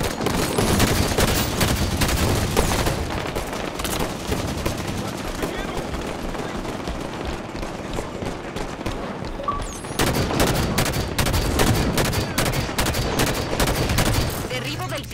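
Constant dense gunfire from the Halo 5: Guardians video game fills the whole stretch, rapid weapon shots and bursts layered thickly throughout, with game voice announcements mixed underneath.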